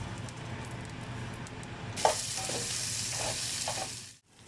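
Mustard seeds hit hot oil in a pan while a spicy tomato curry is cooked, bursting into a sudden loud hissing sizzle with a few sharp pops and crackles, then cutting off abruptly near the end.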